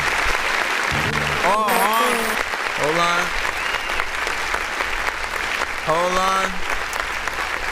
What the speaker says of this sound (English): Let me hit the clap button.